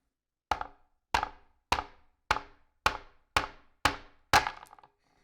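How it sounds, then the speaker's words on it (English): A hammer back gently taps a steel chisel set in a notch to split a rock, eight sharp separate knocks at a steady, slightly quickening pace, close and clear with silence between strikes. "I'm gonna put the chisel in a nice notch where it won't slip, and then gently tap it with the back of the hammer."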